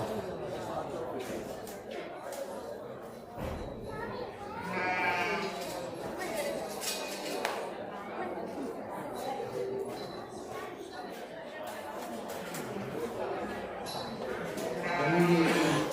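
Sheep bleat repeatedly at a local livestock show, with several calls over steady crowd chatter and an announcer's voice on a PA throughout.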